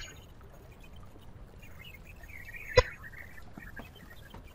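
Water trickles and splashes faintly in a sewer in the video game Amnesia, a low, continuous wash with one sharp splash partway through.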